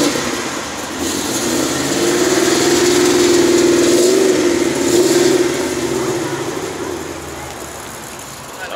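Race car engine at a Portland cars and coffee gathering, revving up as it pulls away, a loud mid-pitched roar that swells to a peak midway and then fades as it moves off.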